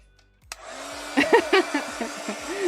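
A hair dryer switches on with a click and blows a steady whoosh to dry artwork done in Neocolor II crayons, running continuously under brief talking.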